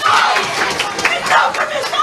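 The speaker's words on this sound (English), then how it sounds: "Permanent Secretary Petty and Inspector Isles a loud, rousing applause for doing that." A large crowd at an official opening ceremony of a clubs headquarters bursts into loud cheering and applause, a dense, sustained roar of clapping and shouts close by.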